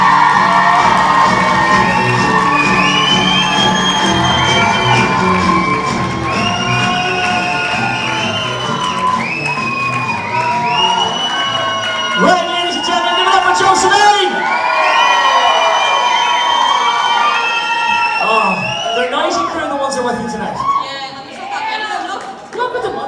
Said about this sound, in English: Please put your hands together for a young lady who's been waiting quite a while. Make some noise for Josephine Keenan!